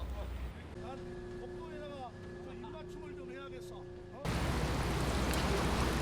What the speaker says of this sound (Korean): 울릉도를 거쳐 독도로 가는 배를 탔다